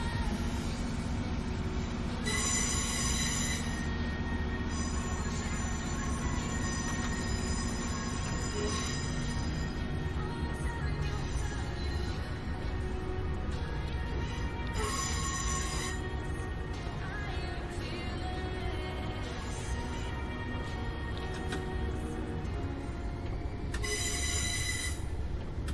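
Simulated train in Train Sim World on a snowy line between Derby and Matlock, wheels slipping, with repeated high metallic squeals and tonal whines over a steady rumbling rail drone, recurring in bursts.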